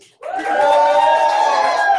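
A poetry slam audience at the RDM Slam roars for a poet with a sudden, loud burst of cheering and shouting that holds steady and sustained after a brief quiet start.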